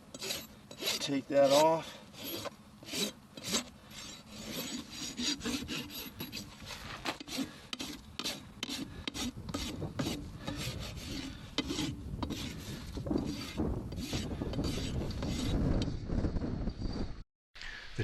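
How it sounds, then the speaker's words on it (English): A farrier's rasp files a horse's hoof wall, making close, rhythmic gritty scraping strokes repeated steadily throughout, with a brief spoken remark near the start. "Using the smooth side of your rasp, clean off the face of the hoof wall."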